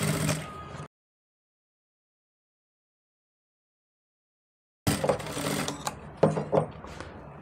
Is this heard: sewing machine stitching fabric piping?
yes